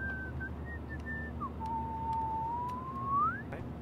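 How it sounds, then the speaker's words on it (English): A person in the Life is Strange video game whistles a tune alone: several short notes, then one long sliding note that rises at the end, clear and fairly near. "Do you mind not whistling?"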